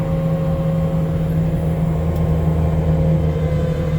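A Bobcat T770 track loader's engine holds a steady, loud, close diesel rumble with a constant drone and no clear rise in pitch. No one speaks.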